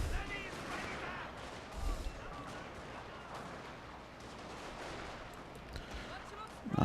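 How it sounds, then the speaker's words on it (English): Volleys of musket and rifle fire crackle from troops shooting at an enemy general in the Total War Shogun 2 Fall of the Samurai battle, a dense, continuous spread of distant shots with a few heavier thumps. "Now I'll order my troops here to shoot the enemy general."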